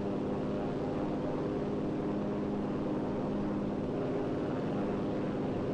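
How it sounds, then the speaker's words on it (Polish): An enemy plane drones overhead in the Enlisted war game, a steady, unbroken propeller-engine hum that holds at an even level throughout with no talk over it. "wrogi samolot"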